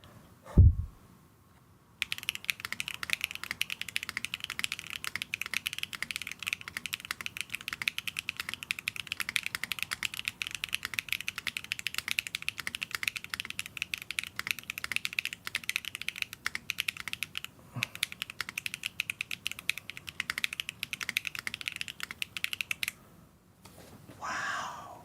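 Steady, fast typing on an Alexotos Manta mechanical keyboard, a continuous clatter of close keystrokes running for over twenty seconds with no talking, ending in a brief pause and a few final taps.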